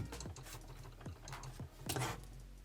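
Ratchet joints on a Transformers Thrilling 30 Voyager Sandstorm figure clicking as the limbs are moved, several quick separate plastic clicks over a couple of seconds, close and fairly quiet with no talk.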